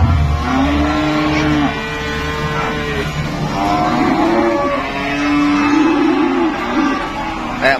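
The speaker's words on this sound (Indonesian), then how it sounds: "Kayak pasar sapi ya." Cattle low at a busy cattle market. Several long, loud, drawn-out moos come one after another from nearby animals over constant crowd and background noise.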